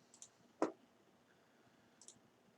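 A computer mouse is clicked during a crypto mining software setup, giving one sharp, close click with a couple of fainter ticks around it in a quiet room.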